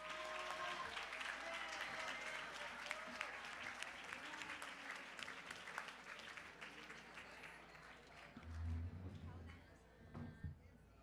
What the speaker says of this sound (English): Please give the Senator Ron Johnson, Leonardo Varela, a round of applause